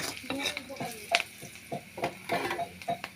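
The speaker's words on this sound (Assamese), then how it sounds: "দেখিছে পিঁয়াজখিনি ভাজ খাই আহিছে।" Chopped onions sizzle in a pan as they fry, with a soft hiss broken by quick scraping and clinking stirs from a utensil, close and brief.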